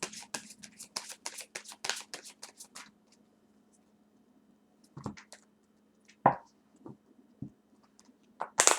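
A deck of angel cards being shuffled by hand, with rapid riffling clicks for the first few seconds, then a quiet stretch broken by a few isolated taps and card snaps, close and clear over a low steady hum.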